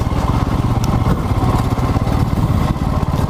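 Royal Enfield Himalayan motorcycle engine running off-road, a loud, steady, throbbing single-cylinder drone with rapid even pulses throughout, close to the listener.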